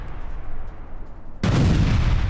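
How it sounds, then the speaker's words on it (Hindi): Heavy blast from an Israeli strike in Gaza, a sudden loud broadband boom that cuts in after a rumbling low background and sustains at full strength. "ये देखिए तस्वीरें एक के बाद एक, कैसे बड़े बड़े धमाके हो रहे हैं गाजा में"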